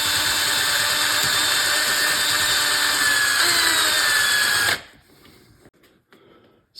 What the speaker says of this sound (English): It's an 1/8 inch copper rod mounted in a drill.